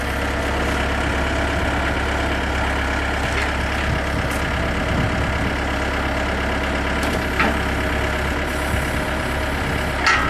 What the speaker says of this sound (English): I want to just show you here that it does turn just the way it's supposed to.